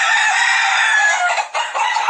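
A gamecock rooster crows loudly and close, one sustained crow with a brief break near the end, and no talk over it.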